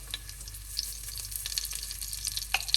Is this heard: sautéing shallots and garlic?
yes